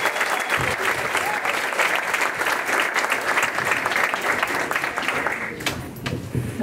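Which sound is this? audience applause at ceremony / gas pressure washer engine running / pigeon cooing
audience applause at ceremony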